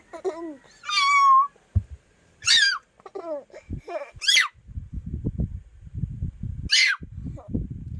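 Several cat meows come close together, some high and drawn out, with a child's babbling and bits of speech in between.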